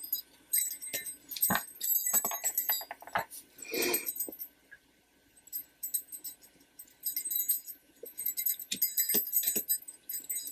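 Small metal jingle bells clink and tinkle in short bursts as they are threaded onto a thin stem for a Christmas bow, close and delicate with quiet gaps between handling sounds.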